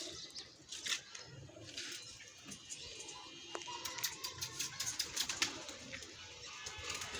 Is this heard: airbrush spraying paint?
no